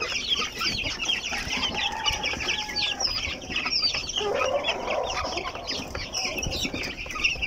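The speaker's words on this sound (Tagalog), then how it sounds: "So ganito po katakaw kumain ng aking mga alagang manok dito mga ka-backyard." Backyard silkie chickens eating hungrily cluck continuously at close range, with a busy overlapping stream of soft calls and scratching from the feeding flock and no talk over it.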